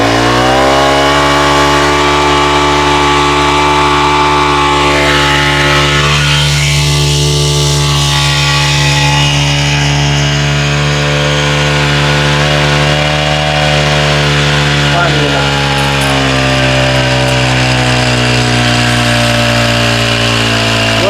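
A small portable power sprayer pump engine runs loudly and steadily nearby with a droning, buzzing hum, pitch dipping briefly then holding constant.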